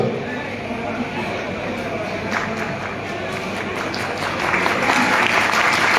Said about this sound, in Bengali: তাদের জন্য জোরে একটা করতালি হবে।